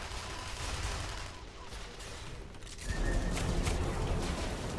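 Submachine gun fire in the video game Tribes: Ascend, rapid bursts of gunfire heard as a dense, continuous rattle that grows louder partway through, with no talk.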